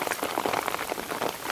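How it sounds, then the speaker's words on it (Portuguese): Sudden out-of-season rain pours steadily, a dense, even hiss of drops hitting surfaces close by with no voices. "Como é que dá uma chuva do nada assim?"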